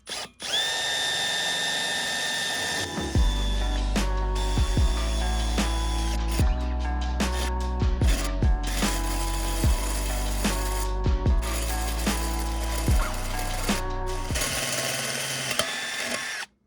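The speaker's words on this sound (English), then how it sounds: "I'm using a hole saw, and I gotta cut out 4 of them" A hole saw with cutting fluid bores through metal to fit an RV hitch on a bus, a loud steady power-drill whine running almost nonstop with brief stutters and shifts in pitch as the teeth bite.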